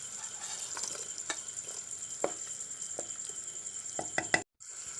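Raisins dropped into melted sugar syrup tinted with orange food colouring in a pan, giving a steady soft sizzle and bubbling with a few small plops and clicks, fairly close and continuous, with a brief gap near the end.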